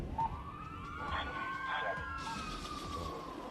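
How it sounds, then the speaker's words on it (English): An ambulance siren wails outside a gate, its rising and falling tone steady across the clip over a constant rumble of background noise, with no voices heard. "why is there an ambulance outside the gate?"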